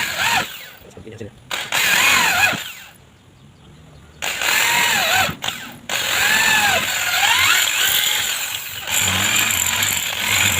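A power drill bores a hole in the cheek rest of an air rifle stock, running in several loud bursts that rise and fall in pitch, with short pauses between them.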